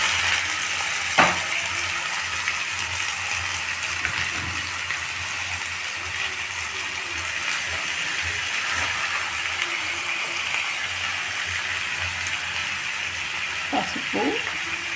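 A steady, close hiss of mixed vegetables, including bottle gourd, brinjal and drumstick, frying with ginger garlic paste in a pan, with a few light clinks and scrapes.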